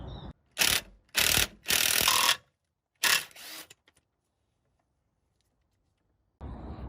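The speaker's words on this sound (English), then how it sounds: "put a spanner on the top and then get the gun on the bottom" An impact gun undoes a 13mm bolt on a Golf GTI MK5 suspension arm in short, sharp hammering bursts, four quick ones followed by a pause, then a final burst. The bursts are close and loud with near silence between them.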